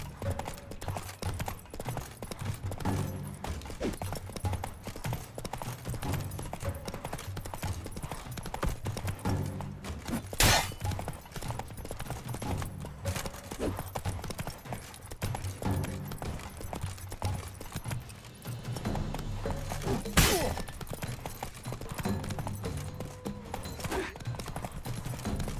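Roach, the horse in The Witcher 3 game, gallops with rhythmic clip-clop hoofbeats over steady game ambience. A few louder impacts break in, and the hooves pause and resume across the stretch.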